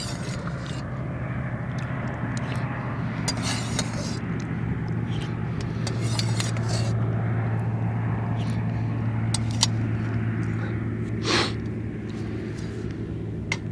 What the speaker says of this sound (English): That's a car coming. Another car.